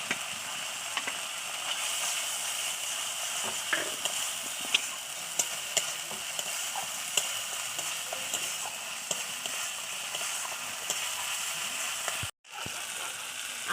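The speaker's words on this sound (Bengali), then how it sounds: "এখানে মশলা কষানো হয়ে গেছে" Spice paste for a rohu fish curry, with turmeric and Kashmiri chilli powder, frying in a pan: a steady, close sizzling hiss runs the whole way with faint scrapes of stirring, cutting out briefly near the end. No one talks.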